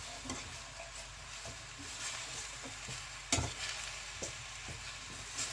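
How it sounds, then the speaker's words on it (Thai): Fajita being stir-fried in a pan, with a low steady sizzle under repeated scraping and clinking strokes of a utensil and one sharper knock midway, fairly quiet and without talk. "เราก็ทำการผัดนะคะ"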